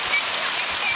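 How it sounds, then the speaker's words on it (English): Heavy rain pounds steadily on a hut roof, a dense, close hiss of countless drops with no pauses and no voices. "And that was the rain."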